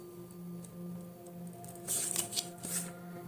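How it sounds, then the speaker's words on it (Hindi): Tarot cards being shuffled for a Hindi-language reading, a soft papery riffling that swells briefly near the end over a steady low hum, fairly quiet and close. "Let's shuffle a little bit more."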